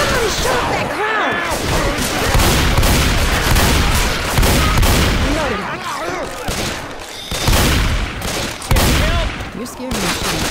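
Dense, continuous gunfire from Left 4 Dead 2, with overlapping rifle and automatic-weapon bursts and loud booms packed together throughout, voices talking over the shooting.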